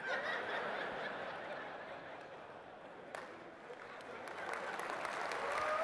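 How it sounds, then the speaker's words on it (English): Conference audience at a safety talk applauds and laughs, a steady wash of clapping and snickering that swells toward the end, heard from within the hall. "That gets the biggest applause."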